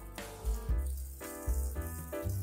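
Fatty pieces of meat, skin side down in a dry pan with no oil, hiss and crackle quietly in short bursts with soft thumps and rattles between them.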